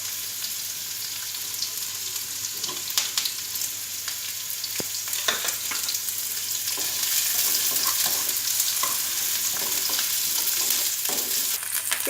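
Onion frying until light brown with crushed garlic and ginger for an Italian-style mixed vegetable dish, a steady close sizzle with scattered spatula scrapes and taps, the frying growing slightly louder partway through, no talking.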